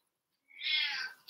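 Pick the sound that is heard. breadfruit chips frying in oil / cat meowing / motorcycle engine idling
cat meowing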